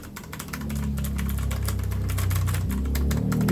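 Steady clicking keystrokes on the space and regular keys of a MOFii Geezer G9 retro keyboard patter over a low, continuous droning hum, close by and moderately loud.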